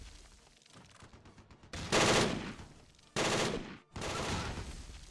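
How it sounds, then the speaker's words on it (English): Machine gun fire from the Close Combat 3 video game comes in three sustained bursts of rapid automatic shots. A short pause separates the bursts, and the loud gunfire sits over faint background noise with no voices. "Let's get that platoon squad sprayed down with a machine gun."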